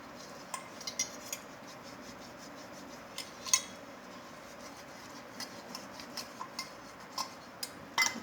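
A metal vessel scrubbed clean by hand, soft steady rubbing with scattered clinks and scrapes of metal, faint and close, with no speech.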